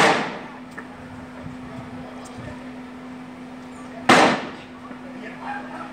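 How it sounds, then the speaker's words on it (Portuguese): Two sharp gunshots crack out during a police confrontation with a resisting man, one at the start and a louder one near the end, over a steady hum and quiet background. "o cara é ruim de tiro"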